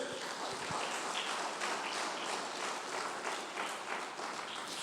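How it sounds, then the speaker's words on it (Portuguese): A church congregation claps hands together in steady, dense applause that fills the space evenly from start to finish, with no voices standing out above it. "Bata as palmas para ele."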